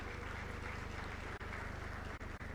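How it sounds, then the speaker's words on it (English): An audience applauds the leadership team of FLOW at an International Women's Day event attended by KTR, a dense, continuous wash of clapping throughout, with a low steady hum underneath and a few brief dropouts. "they deserve a huge round of applause from all of you"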